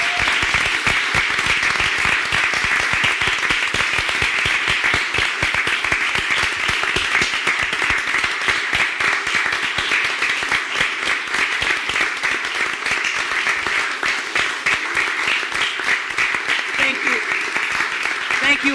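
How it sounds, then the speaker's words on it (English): Sustained, steady applause from an audience at a city commission meeting in Boynton Beach, dense clapping holding level for the whole stretch with some voices faintly underneath. "I also want to give you a round of applause for all that you've done."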